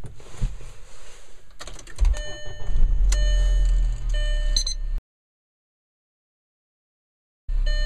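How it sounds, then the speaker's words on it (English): A manual-transmission car is started with the key, beginning with clicks and dashboard chimes, then a starter crank and a low engine rumble settling into idle. A stretch of silence follows before the running engine returns. "Step 1, we are going to start the car"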